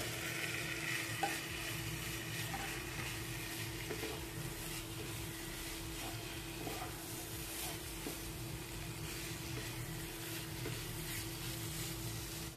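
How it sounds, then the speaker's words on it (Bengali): Pasta is stirred into a pan with other ingredients for a creamy chicken pasta, giving a steady soft sizzle with faint scraping and stirring textures throughout and no voices. "এবার পাস্তাটা দিয়ে দেবো।"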